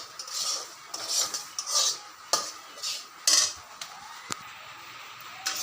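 Semolina with a pinch of salt fried in a hot wok over lowered heat, heard as repeated bursts of scraping and stirring with sharp metallic clinks between them, close and intermittent.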